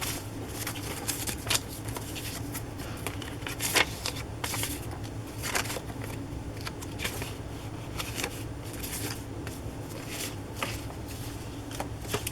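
Vintage index cards with Braille typing being shuffled and handled, close rustling and flicking of stiff card stock in irregular bursts over a steady low hum.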